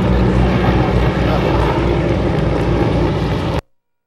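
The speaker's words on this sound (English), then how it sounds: "That's a Ford tri-motor owned by EAA flying by." A Ford Trimotor airplane at an EAA event passes overhead, its propeller engines producing a loud, steady droning roar that cuts off abruptly.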